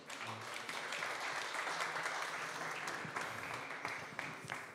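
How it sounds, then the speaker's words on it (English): An audience at a proptech venture capital conference breaks into sustained applause, a broad, even wash of many hands clapping with a low murmur underneath. "A big round of applause for our VC guests."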